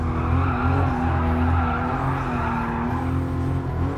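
A new Toyota Supra drifting in Gran Turismo Sport produces a continuous loud tire skid over a steady engine drone, sustained throughout with little change.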